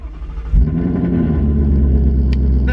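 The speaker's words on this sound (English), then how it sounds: "First cold start for me in quite a while." A 2019 Ford Mustang GT with a Corsa exhaust fires on a cold start: a sudden loud burst, then a deep, steady, rumbling idle that fills the rest of the moment.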